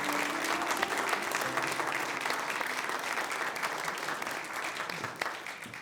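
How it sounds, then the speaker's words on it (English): Audience applause for graduates at the 2022 Emerson Institute graduation ceremony, a steady, dense roar of clapping hands that holds evenly for several seconds with no voices above it. "So let's give a big round of applause to all those graduates."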